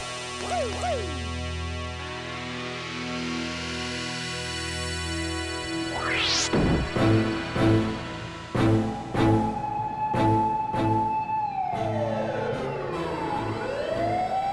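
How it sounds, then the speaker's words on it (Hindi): A loud fire engine siren wails, its pitch rising and falling in long sweeps, broken up by short blaring horn blasts near the end. "अरे ये तो सच में दमकल का सायरन था"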